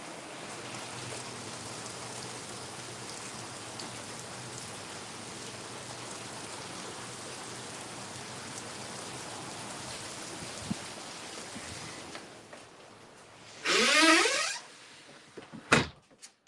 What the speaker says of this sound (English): it is rain and cold outside